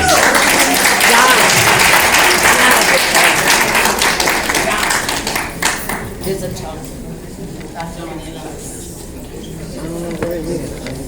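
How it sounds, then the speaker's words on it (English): Loud, dense audience applause at a National Beauty Culturists' League president's banquet, strong for about five seconds and then thinning out as talk and room noise take over. "Give them a round of applause, please."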